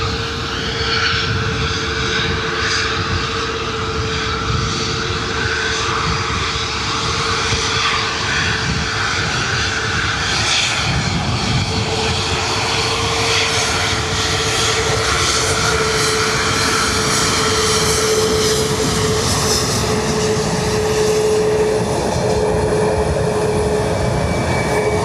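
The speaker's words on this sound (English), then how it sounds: "This is Ryanair coming out. This is Ryanair to Gatwick." Ryanair jet departing Dublin Airport for Gatwick, a sustained loud engine roar with a steady whine tone running through it, rumbling on evenly throughout with no voices.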